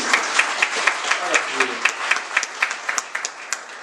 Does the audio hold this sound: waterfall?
no